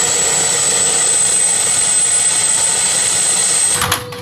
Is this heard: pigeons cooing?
no